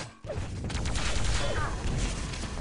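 Rocket launcher fire in a fast Quake duel match, a couple of explosive blasts among dense game gunfire and clatter, loud and continuous over about three seconds.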